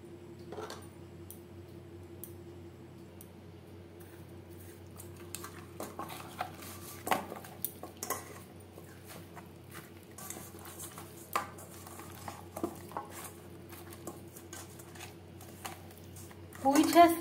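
Fish being rubbed and mixed with salt, ginger paste, green chili paste and turmeric in a bowl, with soft scattered clinks and scraping of utensil against dish over a low steady hum, growing busier and louder toward the end.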